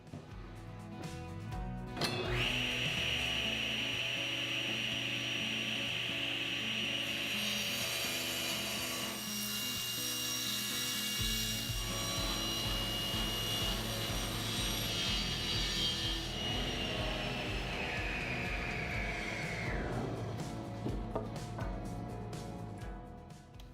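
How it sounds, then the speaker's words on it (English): A table saw rips 2x4 lumber to width for a firewood rack, a steady loud whine and cutting roar running nearly the whole time, with the blade load shifting midway and spinning down near the end. "I'll get started by cutting the 2x4s to length, and then over at the table saw,"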